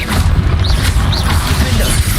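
Confringo blasting spell impacts in Hogwarts Legacy land as a couple of dense, crunching booms and crashes, loud and close, packed together over a low rumbling bed of game sound.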